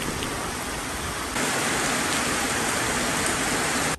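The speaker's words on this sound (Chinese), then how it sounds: "这雨下得好大" A heavy rainstorm pours down outdoors in a dense, continuous roar of rain on surfaces, growing slightly louder partway through and cutting off at the end.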